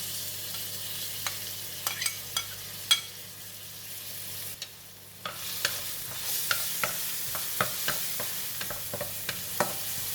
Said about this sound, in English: Oil is hot and I'm going to put in the garlic.